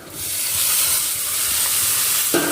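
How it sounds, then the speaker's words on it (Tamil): Chopped tomatoes and onions frying in a pan for a spicy Karaikudi-style vatha kuzhambu, a steady loud sizzle and hiss, with a sharp clink of a utensil near the end. "இப்போ நம்ம வெங்காய தக்காளியை சேர்த்துக்கலாம்"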